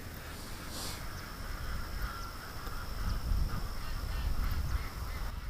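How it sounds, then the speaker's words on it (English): Ducks in a pen by a dock quacking excitedly, a dense, fairly distant chorus of calls over steady outdoor background noise, with no talking. "Ducks are losing it because they see me at the dock"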